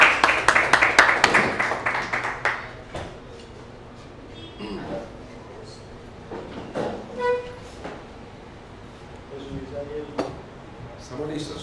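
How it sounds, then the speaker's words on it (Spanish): A lecturer receives applause from an audience, a short burst of clapping that dies away after a few seconds, followed by clattering handling noises and someone talking. "un aplauso para vos"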